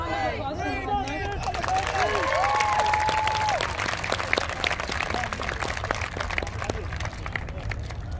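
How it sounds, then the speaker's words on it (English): Crowd at an outdoor Free Palestine rally applauding, with voices and cheering calls at the start giving way to a building wave of clapping that stays loud and steady, mixed with murmuring chatter. "can we have a round of applause for Monday?"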